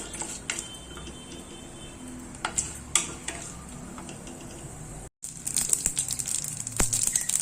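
Dry urad dal and mustard seeds roast in a pan for masala sundal, giving soft intermittent crackles, ticks and stirring scrapes, with a short silent gap before livelier popping resumes.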